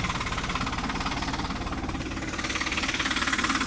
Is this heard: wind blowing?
no